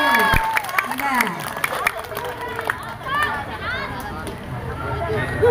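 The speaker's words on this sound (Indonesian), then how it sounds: "Tepuk tangan untuk Bapak Yusuf." An audience at a school storytelling event applauds for Bapak Yusuf, a loud burst of clapping mixed with crowd chatter and cheering, with voices talking over it throughout.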